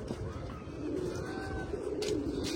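A black-headed (kalanka) female pigeon coos softly and steadily in a loft, a low throaty murmur running close and continuous, with faint bird chatter and brief rustles near the end.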